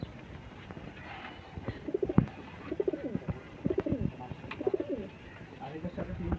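Giribaz pigeons coo in soft, repeated rolling calls at close range, several birds overlapping over a low background murmur, with someone talking intermittently.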